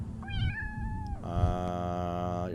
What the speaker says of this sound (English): Although those meow sounds a little different from the actual enemies.